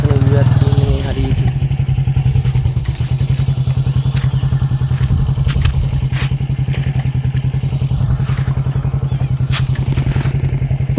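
A motorcycle rides along a jungle road in the Galgamuwa elephant area, its engine a loud, close, steady throbbing drone with rattling clatter from the rough track running through the whole stretch.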